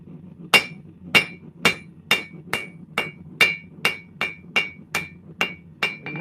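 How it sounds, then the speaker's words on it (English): A hammer rings off a steel anvil during home blacksmith forging, about a dozen bright, evenly spaced strikes at a steady working pace, close and loud, with no talking. "When you hear that big bing, that's the hammer bouncing off the anvil."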